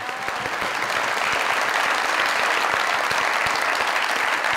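Studio audience at a Pakistani comedy talk show breaks into steady, full applause, a dense wash of clapping that holds at an even, loud level throughout.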